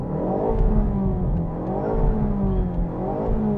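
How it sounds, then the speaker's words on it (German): A 2019 Ford Focus ST, 280 PS, revs in neutral in sport mode with the handbrake on, a loud steady engine roar rising and falling in a few close blips with no talking. "Schalten in den Leerlauf und ich gebe mal im Sportmodus Gas."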